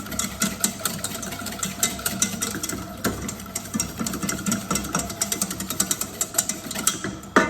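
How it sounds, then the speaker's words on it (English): A whisk works milk into a white sauce for lasagne, making a rapid, steady rattle of wire against the pan that continues close and fairly loud throughout, with no talking. "Keep on whisking and working through that, and it will start to develop into a smoother, silkier sauce."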